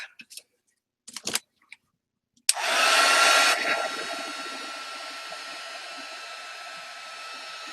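Hair dryer blasting to dry paint on an art journal page, starting abruptly and running steadily close up after a few brief handling clicks.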